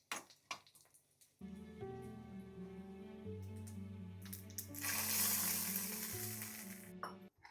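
Cumin seeds and a cut red chili frying in ghee for a tempering, giving a bright, hissing sizzle that swells near the end over steady tonal music, with no talking.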